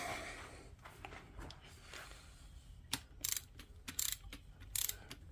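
Quiet ratcheting from a torque wrench snugging waverunner top end bolts on an XL800/GP800 engine, starting with faint scattered clicks and becoming louder, sharper bursts in a steady rhythm.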